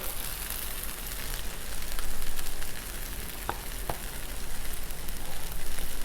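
Butter, shrimp and rice fried on a Blackstone griddle, a continuous close sizzle that swells and dips, with a couple of sharp scraping ticks of a spatula.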